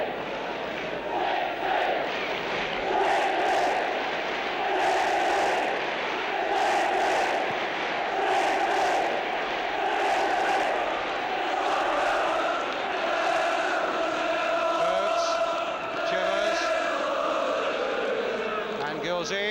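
A large football crowd at the 1973 League Cup Final between Tottenham and Norwich City chants in loud, rhythmic, repeated bursts, with a commentator speaking over the steady roar.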